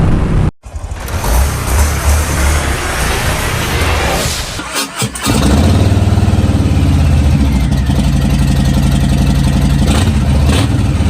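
A 2018 Harley-Davidson Softail Slim 107 motorcycle engine idles loud and close in a steady low rumble, with a brief dip in the first seconds and a short break near the middle before the idle resumes evenly.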